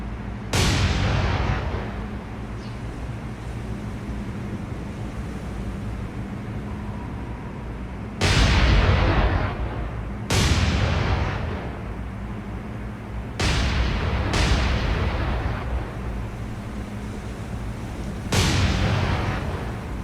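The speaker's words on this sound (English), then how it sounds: "Fire some star shells. Fire 3 volleys." Warship guns in the War on the Sea naval game firing star shell volleys, heavy booming blasts recurring every few seconds with long rumbling decays over a steady low engine drone.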